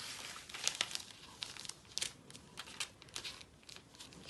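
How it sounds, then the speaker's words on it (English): Sheet of carbon paper crinkling and rustling as it is handled and laid face down on a half-scale sewing pattern, close and quiet, with a string of soft crackles and short crisp crumples spread throughout. "So now I'm gonna take my carbon paper and lay it face down."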